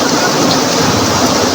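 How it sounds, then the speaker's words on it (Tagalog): Heavy rain pours down in a dense, loud, unbroken roar close by, a constant wash of hiss with no pauses. "lakas ang ulan."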